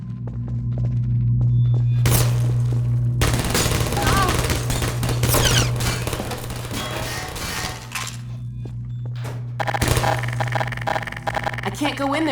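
A turret fires in Half-Life 2 Episode Two, played in Garry's Mod. Loud bursts of automatic gunfire and impacts come in long stretches over a steady low mechanical hum.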